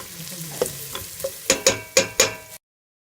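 Bell peppers fried in a pan with a soft sizzle, punctuated by a series of sharp, evenly spaced scraping stirs that grow louder toward the end.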